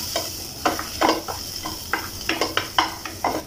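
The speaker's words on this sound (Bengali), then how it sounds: "তেল দেওয়ার পরে রসুনগুলো একটু হালকা ভেজে নিয়েছি" Chopped garlic frying lightly in a small amount of oil in a pan, a steady sizzle with a series of close scraping stirs from a spatula at an irregular rhythm.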